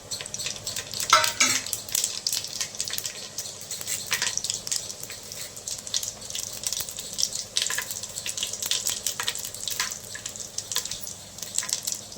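Mustard seeds, cumin and fenugreek crackle and sizzle in hot oil for a Tamil fish curry, with steady frying hiss and scattered sharp pops, plus occasional stirring scrapes, fairly close and moderately loud.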